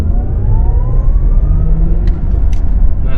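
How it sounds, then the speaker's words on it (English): A 2021 Porsche Taycan 4S electric car accelerating from 0 to 60 in normal mode, heard from inside: loud low road and wind rumble with a thin motor whine rising steadily in pitch. "Here's a little 0 to 60 run, normal mode in the 2021 Porsche Taycan"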